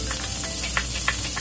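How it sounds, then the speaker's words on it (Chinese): Shallots frying on low heat in a pan still holding juices from pan-fried prawns, a steady soft hiss broken by small crackling bursts, close and alone. "我用細火係啦，爆香啲乾葱"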